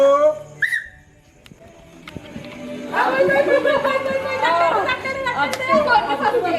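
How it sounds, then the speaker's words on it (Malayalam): A sharp whistle blown once to start a family party game at home during Onam, followed by loud excited chatter and cheering from a small crowd. "പിന്നെ വിസിൽ കേട്ടാ"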